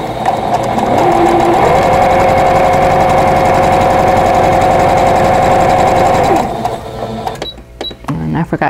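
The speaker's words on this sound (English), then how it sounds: "I'm going to sew from the center point to the lower left corner" A sewing machine stitching a quilt block runs in a steady, fast whirring hum for several seconds, rising as it starts and winding down near the end, close and loud.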